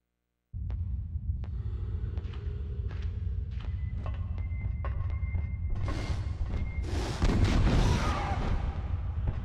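Gunfire and blasts from Alien Resurrection in the Mess Hall Complex mission: a string of sharp reports, then heavier booming explosions toward the end, loud and close with no talking.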